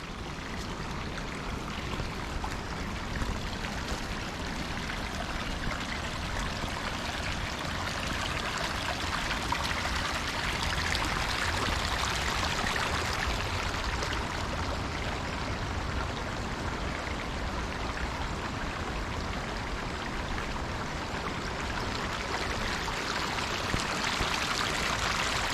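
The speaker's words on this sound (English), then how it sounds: "coming down to a little creek crossing" Water runs steadily over a small creek crossing on a bush track in Main Range National Park at Cunninghams Gap. The flow is a constant, fairly soft rush and trickle with no talk over it.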